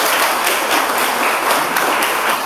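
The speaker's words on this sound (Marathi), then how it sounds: "सिकंदर शेखला त्यांनी जोरदार टाळ्या त्याच्यासाठी व्हायला पाहिजे." An audience at a school event on the importance of sports claps vigorously in honour of wrestler Sikandar Shaikh, a dense, even applause that fills the whole stretch without letup.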